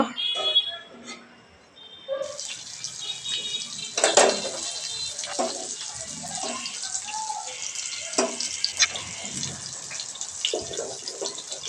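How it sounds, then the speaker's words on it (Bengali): Pieces of featherback (foli) fish sizzle steadily in hot oil, a broad crackling hiss that starts after a quiet moment and carries on, with occasional clinks and scrapes. "এখন সুন্দরভাবে আবারও ভেজে নিব"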